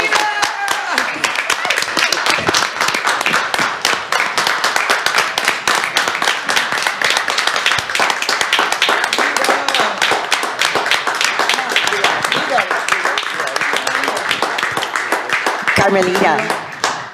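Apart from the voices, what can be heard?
council meeting audience clapping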